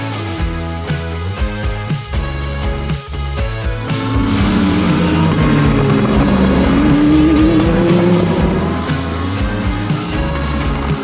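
Race cars roaring through Turn 5 (Boss Corner) at Canadian Tire Motorsport Park, a loud, continuous engine howl that swells and sustains as cars pass close by, with shifting pitch and layered exhaust tones.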